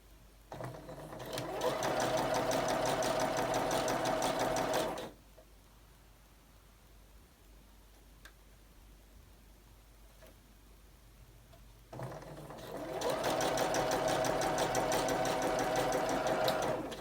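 A sewing machine stitches a cosmetic bag with looping stitches from loose tension, running in two steady bursts of rapid mechanical chatter separated by a quiet pause.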